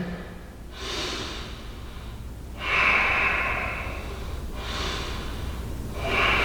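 Deep, slow breaths during a yoga stretch, three long audible exhales or inhales with quiet gaps between, close and fairly soft, no talking.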